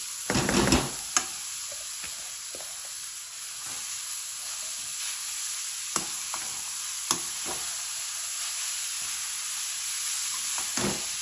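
Onion, ginger and garlic sizzle in a frying pan with a steady hiss of hot oil. Sharp clinks of a stirring utensil punctuate the sizzle at close range.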